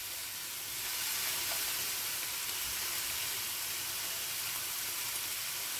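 Pork sizzles on a closed Tefal OptiGrill+ electric contact grill, a steady, even hiss with a slight swell near the start and no one talking.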